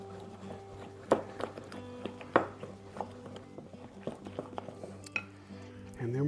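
A spoon mixes baking soda into an oatmeal cookie dough, giving soft wet squishes and scrapes with a few sharper clicks against the bowl, close and fairly quiet, with steady background hum.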